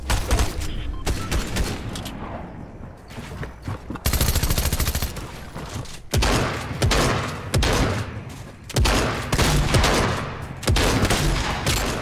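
Rapid bursts of automatic gunfire and fusillades in a Fortnite match, loud and near, repeating in dense volleys with brief gaps throughout.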